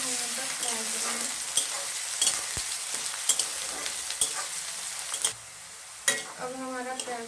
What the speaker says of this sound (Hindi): इसे गोल्डन ब्राउन होने तक फ्राई करेंगे।